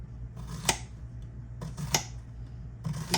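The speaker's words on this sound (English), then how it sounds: "Everything's gonna be cut in circles, like so." A knife slicing squash into rounds on a cutting board, three crisp chopping cuts spaced about a second apart, close and fairly quiet against faint background hum.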